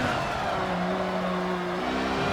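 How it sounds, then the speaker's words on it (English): Race car engine in Forza 7 driven with a stick shift, revs dropping steadily under engine braking with a sustained droning tone and a downshift near the end, no talk. "A lot of engine braking when driving stick shift."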